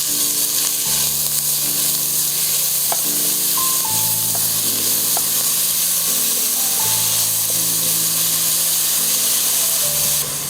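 Sliced onion sautés in a pan for a Kerala sadya pachadi, giving a continuous, even sizzle that runs the whole time under soft background music.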